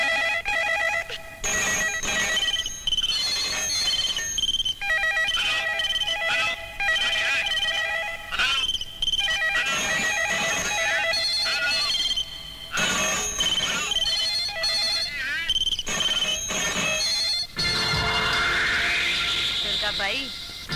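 Old-style telephone bells ring in repeated bursts, layered with bright warbling tones that fill the scene almost without pause, growing into a cacophony near the end.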